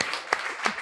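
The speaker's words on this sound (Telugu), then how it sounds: "గట్టిగా చప్పట్లు కొడదామా?" An audience at a church gathering in Hyderabad claps during a pastor's sharing of the word of God. The clapping comes through as a brief, faint-to-moderate patter with two sharper claps standing out, lasting under a second.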